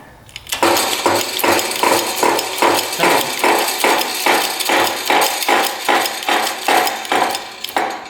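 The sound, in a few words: pressing the crankshaft out of a 250cc dirt bike engine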